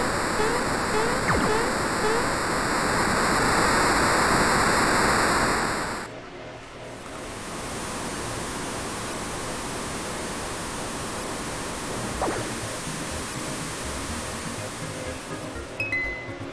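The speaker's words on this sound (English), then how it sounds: "Water." Steady, full rushing water of the Midas River in Super Mario RPG roars continuously like a waterfall, with bright chiming tones ringing over it at first, then the torrent carrying on alone with a few faint clinks.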